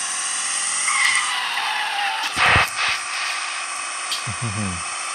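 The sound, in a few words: car skidding with failing brakes in a video game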